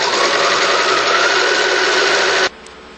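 A sewing machine runs at steady high speed stitching a French seam in fabric, loud and close with a continuous whirring buzz that stops abruptly near the end, leaving a faint hum.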